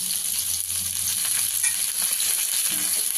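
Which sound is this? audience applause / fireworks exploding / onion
onion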